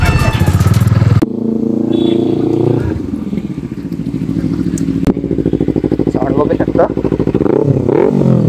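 Motorcycle engine revving on an expressway during a casual track race, a loud, close, buzzing roar that climbs and surges in pitch, with clattering mechanical texture throughout.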